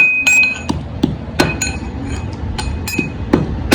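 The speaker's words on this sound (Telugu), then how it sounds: "దంచుకోవాలి బాగా" Fruit being pounded with sugar and cumin in a mortar, sharp hard knocks with a clinking ring at irregular intervals, close and loud over a low background rumble.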